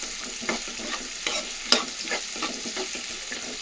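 Onions frying and being stirred in a pan of hot oil with garlic for tomato rice, a steady soft sizzle broken by scraping stirs and a sharp clack near the middle, with no voices.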